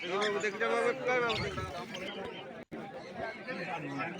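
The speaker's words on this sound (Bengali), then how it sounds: "তোমরা দেখতেই পাচ্ছ পেছনে সকাল সকাল ভালোই ভিড় হয়েছে।" Morning crowd at a busy outdoor bird market: steady chatter and babble of many people close by, with one voice clearly in front.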